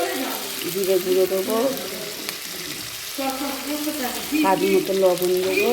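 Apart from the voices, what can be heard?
spices frying in oil with ginger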